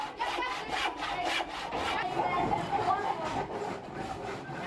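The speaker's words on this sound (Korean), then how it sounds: "톱질과 망치질 소리로 가득한 수업 시간" Fourth-grade children in a Danish school woodworking class saw wood, with steady back-and-forth rasping strokes running loud and continuous while a voice speaks over the workshop noise.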